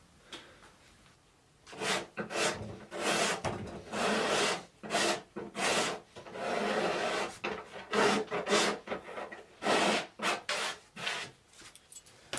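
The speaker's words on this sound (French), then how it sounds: "je vais racler le vernis avec une lame de scie pour rayer un peu et que ça accroche" A saw blade scrapes varnish off a varnished desk top in a series of short, rasping back-and-forth strokes, about a dozen bursts with brief pauses between them, close up and with no talking.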